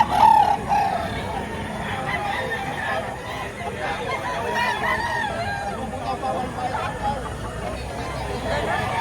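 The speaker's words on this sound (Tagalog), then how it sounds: "Ang laking manok." Chickens and roosters at a poultry market in Lipa, Batangas, with a rooster crowing near the start and scattered clucks under a steady hubbub of people talking and bargaining.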